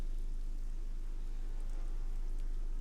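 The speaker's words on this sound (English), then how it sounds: "I can hear the rain." Steady rain hisses in Assetto Corsa, a soft even wash of falling drops under a constant low hum, with no voices over it.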